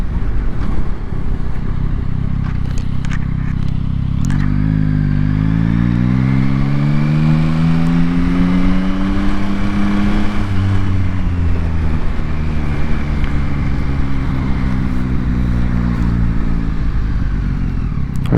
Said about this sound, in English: Hopefully you can hear the bike okay now.